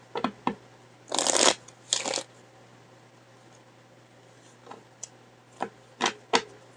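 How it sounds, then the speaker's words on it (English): A few quick riffling bursts of tarot cards being shuffled, followed by scattered soft taps and clicks in a quiet room. "One last shuffle."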